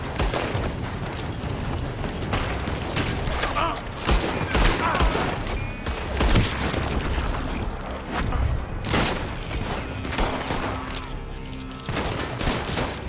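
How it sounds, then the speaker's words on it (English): Gunfire from a building in Red Dead Redemption II, a dense, continuous volley of loud shots and booms over thirteen seconds, with voices shouting now and then. "They're shooting from that building."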